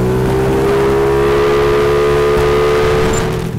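A large motor scooter accelerating on an emptying road, its engine a steady close drone with rising harmonic tones throughout, no talk over it.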